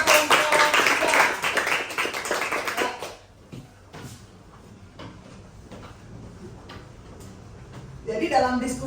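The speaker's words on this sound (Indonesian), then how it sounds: "beri aplaus buat kelompok 3" Students in a classroom applaud a group presentation: a loud, dense burst of clapping for about three seconds that then stops, leaving a quiet room with scattered knocks before a voice starts speaking.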